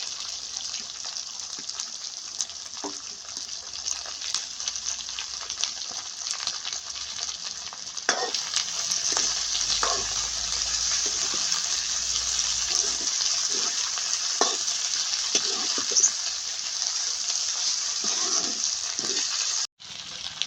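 Onions and potatoes fry together in a pan after garlic, a loud steady hiss of hot oil running throughout with intermittent soft stirring taps, briefly dropping out near the end.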